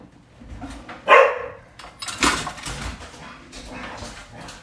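A dog barks indoors in a home kitchen during cooking, a loud single yelp followed by a few softer, scattered barks and noises at medium distance.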